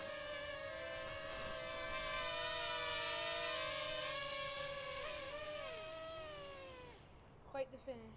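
A Ryze Tello drone hovers and then lands on a hand. It gives a steady, close, high-pitched buzzing whine with drifting pitch, which cuts out abruptly near the end and is followed by a few soft knocks.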